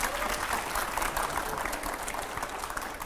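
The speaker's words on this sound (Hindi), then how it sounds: "एक बार इनके लिए ताली बजा दो" An audience gives a steady, dense round of clapping for Nishant in a studio panel with Swami Ramdev, sustained evenly for a few seconds with faint crowd murmur beneath.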